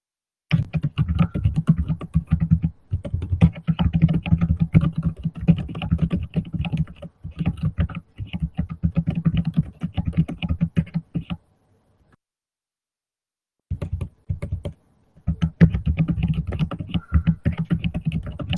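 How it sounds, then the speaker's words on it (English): Steady keyboard typing in rapid bursts of key clicks, close by, with a brief pause of silence before the tapping resumes. "Someone's typing."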